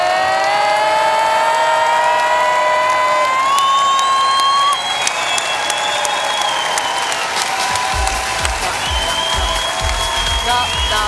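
Large audience at an academic year opening ceremony cheering and yelling together, a dense sustained crowd roar with high whooping tones throughout and a low rumble appearing near the end.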